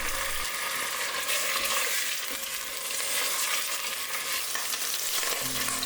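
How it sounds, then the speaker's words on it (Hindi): Big chicken pieces fry in a pan until they change colour, a loud, dense, even sizzle close up, with a few faint stirring sounds and no talk. "चिकन को इसका कलर चेंज होने तक थोड़ा सा फ्राई करूँगी"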